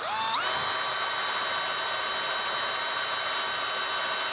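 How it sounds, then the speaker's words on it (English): A power drill bores a hole beneath a mouse trap's yellow pan with a quick spin-up whine that settles into a loud, steady high-pitched drone close to the microphone. "to drill a hole under them."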